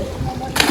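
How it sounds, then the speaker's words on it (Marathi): A person does a backflip into a village river and lands with a single sharp splash near the end, after a moment of murmuring voices and outdoor ambience. "चला पारस भाई आता उलटी उडी मारणार आहे, बघू शकता."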